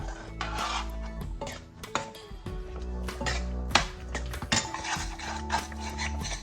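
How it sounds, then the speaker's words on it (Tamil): Semolina for rava upma goes into a pot a little at a time and gets stirred, with repeated clattering scrapes and knocks of a spoon against metal in an uneven rhythm. "கொஞ்சம் கொஞ்சமாக போட்டு ரவையை கிண்டணும்"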